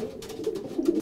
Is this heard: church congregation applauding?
no